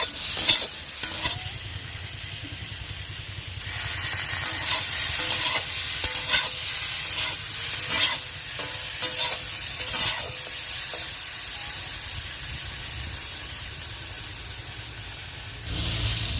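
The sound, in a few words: potatoes sautéing and being stirred with salt and turmeric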